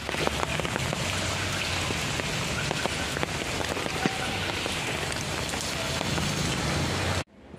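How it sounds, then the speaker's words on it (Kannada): Rain falls steadily and densely, with a continuous hiss of drops, before cutting off abruptly near the end. "ನೋಡ್ರಿ ಮಳೆ ಹೊಂಟದ ನೋಡ್ರಿ"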